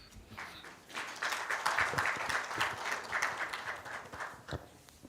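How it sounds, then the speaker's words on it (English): Audience applause at a 70th anniversary celebration, a steady wash of many hands clapping that swells in the middle and fades toward the end, with no talk over it. "Another round of applause."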